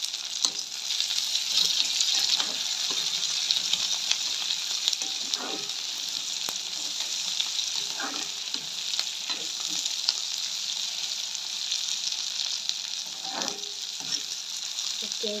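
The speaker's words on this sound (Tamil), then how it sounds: "இப்போ பார்த்தீங்கன்னு சொன்னால் நம்ம வெங்காயம் வதங்குற அந்த கறி மிளகா வதங்கிட்டு இருக்கு" Onions and curry chillies sauté in a pan for a Jaffna-style prawn curry, giving a steady, close hiss of frying with occasional stirring scrapes running throughout, with no talking.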